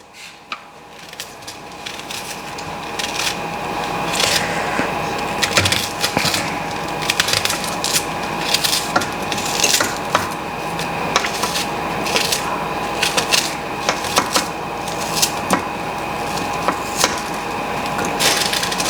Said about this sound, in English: So I'm just going to add the onions now.